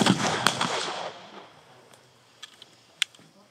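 An 18th-century flintlock pistol fires once outdoors, a loud, sharp crack that rolls into a long fading boom, followed by a few faint clicks and taps.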